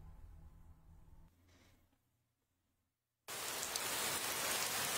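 In Fallout 4, after a low hum fades to near silence, heavy rain bursts in suddenly and pours loudly and steadily.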